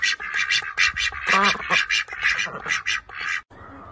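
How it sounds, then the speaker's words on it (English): A duck quacks repeatedly in a quick, loud run of nasal calls, close and clear, then stops abruptly near the end. "Duck duck."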